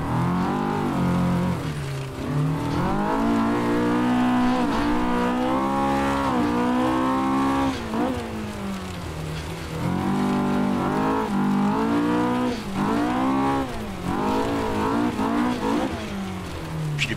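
A Honda K20-powered Axfor ProPulsion S2 Junior race car engine in Assetto Corsa roars and revs, pitch climbing and dropping through repeated gear shifts, loud and continuous.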